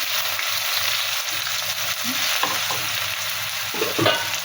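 Cumin seeds and onion frying in hot oil, a steady broadband sizzle throughout with a few soft stirring scrapes near the end.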